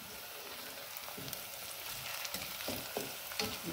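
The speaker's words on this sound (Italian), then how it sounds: "A fiamma alta lasciamo soffriggere per 2-3 minuti." Italian soffritto with a bay leaf sautéing over high heat, a dense crackling sizzle with a few stirring scrapes, steady and close, no voices.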